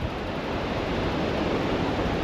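Rough ocean surf rolls onto a beach in Vietnam as a steady, loud, broadband roar of breaking waves, continuous and close, with no voices.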